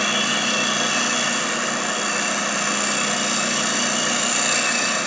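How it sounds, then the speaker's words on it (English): A Hope 6mm Pro carbide woodturning tool cuts through wood on a lathe, giving a steady, loud broadband hiss and whir that runs without a break for the whole stretch, with no voices. "we continue the cut through, taking care as we exit the wood"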